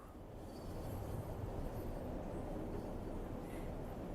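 A London Underground Bakerloo 1938 Stock train runs in Train Sim World 2, a low rumbling roll of wheels on track that swells after a quiet start and holds steady, faint and without talking.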